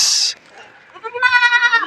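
A goat on a goat farm bleats once, loud and close, a short wavering cry after a brief hiss of noise.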